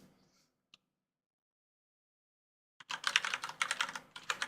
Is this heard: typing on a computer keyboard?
yes